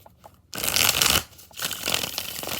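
Tarot cards are riffle-shuffled up close in two quick bursts of crisp fluttering separated by a short pause, with faint handling clicks before the first shuffle.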